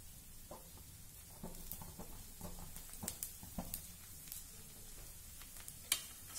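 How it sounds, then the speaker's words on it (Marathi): A thalipeeth roasts in oil on a pan over medium heat, giving a steady soft sizzle dotted with small crackling pops. "आणि मध्यम गॅसवर हे थालीपीठ भाजून घेऊया"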